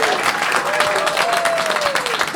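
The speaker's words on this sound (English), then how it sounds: "Thank you for your round of applause and your kind support." A live comedy audience breaks into sustained applause for a stand-up comedian, a dense, even wash of clapping with a few voices murmuring underneath.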